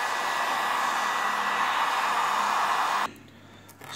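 A heat gun blows a steady, loud rushing hiss while warming an iPad screen for repair, then cuts off abruptly near the end, leaving a faint low hum.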